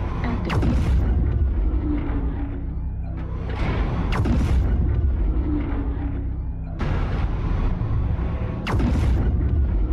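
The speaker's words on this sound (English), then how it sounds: "Airstrike active." Airstrike explosions in MechWarrior Online pound down in a rapid series of loud, deep booms with sharp cracks, rolling continuously with barely a pause between blasts.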